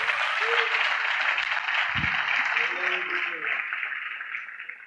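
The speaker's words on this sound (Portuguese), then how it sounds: "Quem recebe aí, dá um aplauso ao Senhor Jesus." A church congregation at a revival conference applauds steadily, a dense, sustained wash of clapping with a few voices calling out beneath it.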